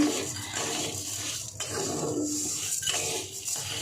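A pan of melting sugar, cooked down for homemade soy sauce, scraped and stirred nonstop, giving soft continuous scraping and light clinking against a steady hiss.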